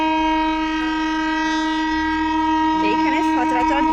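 A full-length passenger train with packed coaches passes at a rural spot, its long steady horn blaring loud and close throughout over a low rumbling roll, with crowd voices rising near the end.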